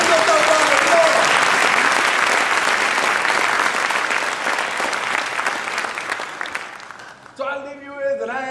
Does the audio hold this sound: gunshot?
no